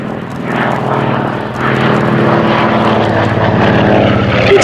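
A Lockheed 12A Electra Junior twin-engine propeller aircraft flies at Sywell Airshow 2024, its engines giving a loud, continuous droning roar that swells slightly as it passes nearby.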